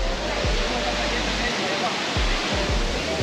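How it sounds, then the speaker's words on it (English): Loud, constant roar of a waterfall near El Tunco, El Salvador, a dense rushing wash of water filling the whole scene with a low rumble underneath. "We had the first waterfall"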